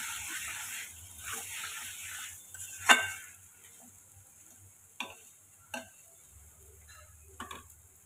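Potato and pointed gourd curry being sautéed in a pan: soft sizzling and stirring scrapes, with a few sharp spoon taps against the pan at irregular intervals.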